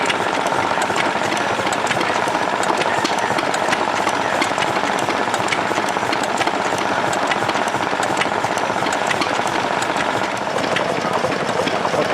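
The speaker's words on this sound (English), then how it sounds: "these are homemade engines. They represent the early engines from back in the turn of the century" A small homemade engine modelled on turn-of-the-century engines runs steadily and loudly at a heritage day, with a busy, rattling mechanical chug that never lets up.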